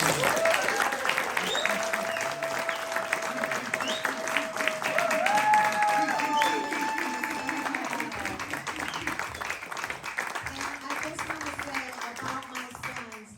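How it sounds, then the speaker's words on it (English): Comedy club audience applauding at the end of a stand-up set, sustained clapping through the whole stretch while a performer keeps talking over it. "Clap it up for yourselves again."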